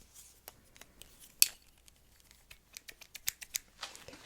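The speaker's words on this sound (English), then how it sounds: "just going to go in with my little scissors here" Small scissors trimming hair during a makeover, heard as a series of quiet, crisp snips spread unevenly across a few seconds, close up with no talking.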